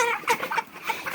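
Broiler chickens in a poultry shed, birds around two kilograms each, clucking steadily in a dense overlapping chorus of many close calls with no pauses.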